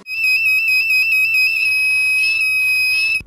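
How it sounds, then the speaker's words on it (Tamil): An electronic police-style siren alarm circuit sounds a loud, steady, slightly warbling tone that runs continuously from start to finish with no talking. "சிம்பிளாக ஒரு சைரன் அலாரம் சர்க்கியூட்டை எப்படி ரெடி பண்ணுறதை பற்றி பார்க்கலாம்"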